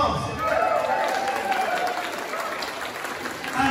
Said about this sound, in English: Bill, give him a big round of applause